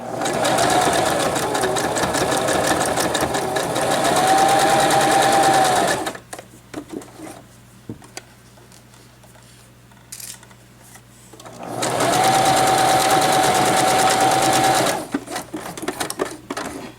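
A sewing machine stitching frog-themed mittens runs in two loud steady bursts, with a quiet pause between where only faint handling noises are heard.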